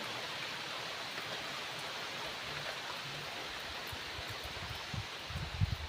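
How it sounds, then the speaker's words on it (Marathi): Rain pours steadily outdoors during monsoon festival season, a soft, even wash of hiss with no breaks, fairly quiet and distant, with a few low knocks near the end. "मस्त असा पाऊस पण पडतोय"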